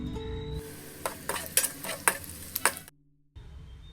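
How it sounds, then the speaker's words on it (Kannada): Crushed garlic and mustard seeds fry in hot oil as a tempering, with a close, bright sizzle and several sharp stirring clatters of a utensil against the pan before the sound briefly cuts out and then resumes. "ನೆಕ್ಸ್ಟ್ ಒಂದು 4 ಕಾಳಷ್ಟು ಜಜ್ಜಿದ ಬೆಳ್ಳುಳ್ಳಿ ಸ್ವಲ್ಪ ಫ್ರೈ ಮಾಡಿಕೊಳ್ಳುವ."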